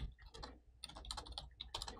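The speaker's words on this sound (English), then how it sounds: "I could double click and start typing in my own text here" Typing on a computer keyboard while working in a design application, quick irregular bursts of close, crisp key clicks with short pauses between them and no voices.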